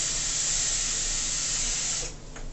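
Tap water gushes into a cooking pot in a home kitchen, a steady loud hissing rush for about two seconds that then cuts off, leaving a quieter trickle.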